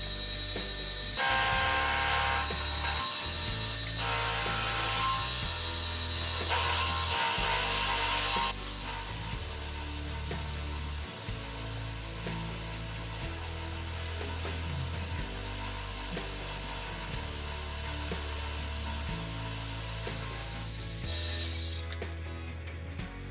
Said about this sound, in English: And now I'm going to turn the mill on,